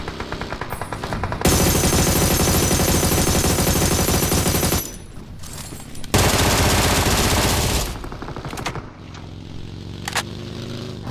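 Rapid automatic gunfire in a shooting video game with a jeep target, loud bursts of machine gun fire in long sustained strings broken by short pauses, with quieter game sounds between them.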